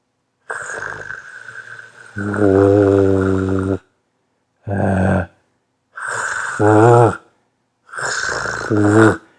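A voice imitates a voiced snore while demonstrating Arabic letter pronunciation, producing several separate rasping, buzzing bursts, some with a rough guttural onset, separated by short silences and loud and close throughout.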